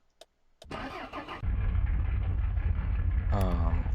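A truck engine cranks and catches in the video game Mon Bazou: a few clicks, a short whirring crank, then the motor settles into a loud, steady low idle, with a rising whine at the end.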